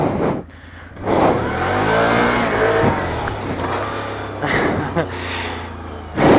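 A 2016 Can-Am Outlander L 500 V-twin ATV engine revs hard for a wheelie, its loud, rising and falling growl sitting close under a rider's talking.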